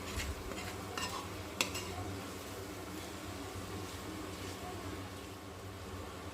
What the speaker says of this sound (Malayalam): കറി കുറച്ചു നേരം കൂടി ഇളക്കിയെടുക്കണം